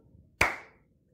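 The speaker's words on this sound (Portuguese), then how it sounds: "Um som curto, como o da palma," A single sharp hand clap, crisp and close, ringing out briefly against near silence.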